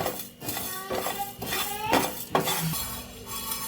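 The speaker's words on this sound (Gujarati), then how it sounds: "મેથી, ધાણા અને આ જીરું અને વરિયાળીને પણ સાથે ઉમેરીને આપણે સરસ શેકી લેવાનું છે પાંચેય વસ્તુને" Fenugreek, coriander, cumin and fennel seeds roasting in a pan while a metal spoon scrapes and clinks against it in uneven strokes, with a faint sizzle underneath and no talking.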